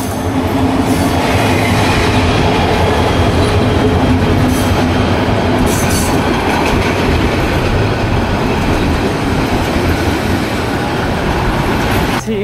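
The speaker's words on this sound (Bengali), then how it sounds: "আমরা দেখতে পাচ্ছি যে দেওয়ানগঞ্জ থেকে একটি ট্রেন, এটা একটি এক্সপ্রেস ট্রেন" An express train from Dewanganj to Kamalapur, Dhaka, rolls into Piarpur station in Bangladesh, a loud, close, continuous rumble of wheels and carriages with rhythmic clatter on the rails.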